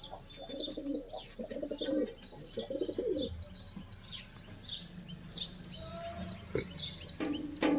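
Pet pigeons coo in low repeated bursts close by, with chirps and brief wing flutters mixed in among steady outdoor background.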